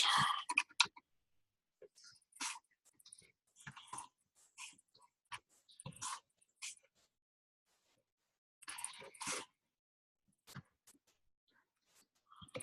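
Keys on a computer keyboard clatter in short irregular bursts of quiet, close clicks with silent gaps between them, typed alone without talk.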